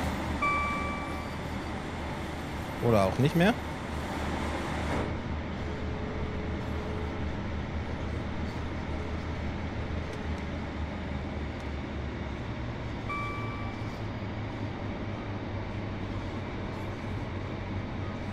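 A diesel regional train on the Glasgow route in Train Sim World 3 runs with a steady, low engine rumble and track noise, broken by a short louder burst early on, with a brief spoken remark over it.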